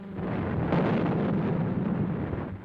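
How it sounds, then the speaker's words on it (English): A deep, sustained rumbling blast with low booming roar, like distant heavy gunfire explosions rolling together without pause: naval bombardment from battleships and heavy cruisers at Peleliu Island. "Under Admiral Oldendorf, the Western Gunfire Support Group commences a 4-day bombardment from battle wagons and heavy cruisers"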